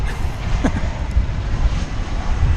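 An American Eagle plane takes off at DFW Airport, a steady broadband engine roar heard from a distance and mixed with wind noise.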